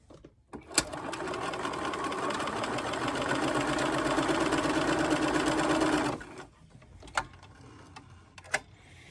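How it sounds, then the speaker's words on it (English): Sewing machine stitching straight lines on a quilt, running as a steady loud mechanical whir for about five seconds before stopping, with a few sharp clicks before and after. "sew down these other lines on each side."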